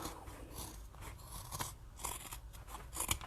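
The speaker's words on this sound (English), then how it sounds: "These scissors are so blunt, but they're only cheap IKEA ones." Blunt, cheap IKEA scissors trimming a fabric seam while sewing a tote bag, giving repeated crunchy snips of uneven rhythm, close and fairly quiet over a steady background hiss.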